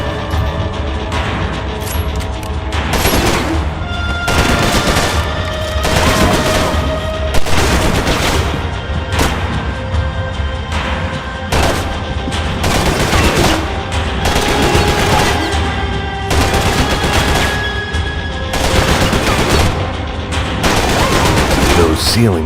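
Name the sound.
gunfire in video game Max Payne 3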